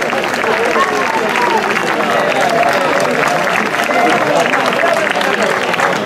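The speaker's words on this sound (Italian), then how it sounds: "Quindi un altro applauso." Dense, steady crowd applause at an award ceremony following a hill-climb race, loud and continuous throughout with voices mixed into the clapping.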